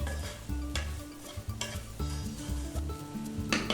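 Potatoes and okra with cumin sizzle in a pan while a spoon stirs and scrapes them in repeated strokes, close and steady with a quiet musical backdrop.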